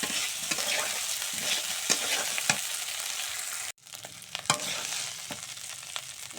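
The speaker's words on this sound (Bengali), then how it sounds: "এখন আলু ভাজা হয়ে গেছে," Potatoes fry in a pan for a thin singi fish and potato curry: a steady close sizzle with repeated stirring scrapes, broken by a brief silent gap midway before the frying resumes.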